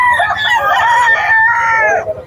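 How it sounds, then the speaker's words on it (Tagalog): Roosters crow loudly and close by at the Bocaue pet market in the Philippines, one long, wavering cock-a-doodle-doo trailing off at the end, over faint background crowd noise and clucking. "Dito, ang daming dala nilang manok ko."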